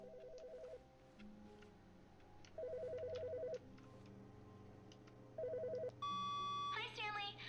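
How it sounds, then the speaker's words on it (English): An in-game telephone in The Stanley Parable trills in three separate bursts of rapid electronic ringing, fairly quiet against a low hum, followed by a brief tone and a few faint blips. "There's a phone ringing."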